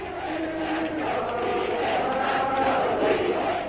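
A crowd gathered in the street raises one shared shout, a dense sustained roar of many voices holding steady at moderate loudness throughout.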